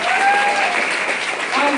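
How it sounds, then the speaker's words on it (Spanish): A church congregation applauds in a loud, dense wash of clapping, with cheering voices rising over it. "Denle un aplauso al Señor."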